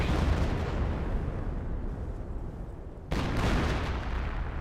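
An artillery barrage rumbles through a Company of Heroes battlefield, dense continuous booming that dips briefly, then a fresh heavy blast resumes the loud roar.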